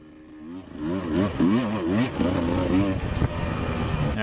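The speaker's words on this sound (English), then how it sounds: "I heard a bike behind me, and this guy comes by" A dirt bike revs and passes close by during a cross-country off-road race, its mid-pitched engine rising and falling through quick gear changes over a few seconds.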